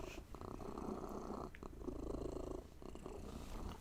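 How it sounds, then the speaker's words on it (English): A cat purring right up against a microphone, a steady close, loud rumble running continuously with brief dips, during a live football watch-along. "he's just purring right into the mic"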